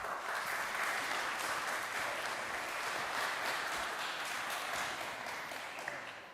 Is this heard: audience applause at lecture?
yes